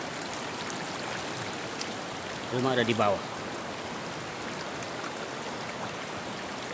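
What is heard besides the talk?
flood water of river stream flowing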